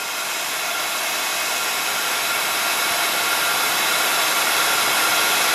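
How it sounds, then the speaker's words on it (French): An embossing heat gun runs continuously while it warms up before embossing craft die-cut flowers, a steady loud blowing hiss close by, with no change and no voices. "Vous laissez surtout bien chauffer votre pistolet avant."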